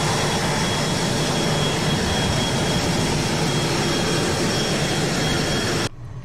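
A Cessna C510 Mustang's jet engine roars in Microsoft Flight Simulator, a loud, steady, broadband whine with a thin high tone, running unbroken for nearly six seconds before cutting off abruptly.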